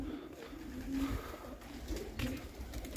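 Pigeons in a loft give soft, repeated low coos over quiet ambient noise, fairly faint and close.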